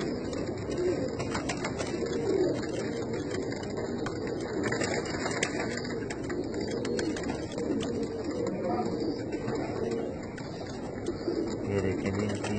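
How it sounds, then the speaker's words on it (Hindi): Surkha breed pigeons kept by a fancier in Multan, Pakistan, coo steadily in a dense, continuous murmur, close and constant, with faint chirps and background noise throughout. "बड़े अच्छे सुर्खे कबूतर हैं ये उनके।"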